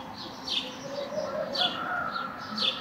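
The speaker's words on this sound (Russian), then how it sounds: "птички поют" Small birds chirp and tweet in short bursts outdoors under a blue sky, a few calls rising above steady background noise, with a possible dove cooing faintly low beneath.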